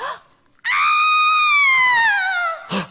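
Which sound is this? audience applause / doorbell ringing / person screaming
person screaming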